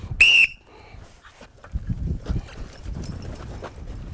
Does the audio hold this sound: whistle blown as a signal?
yes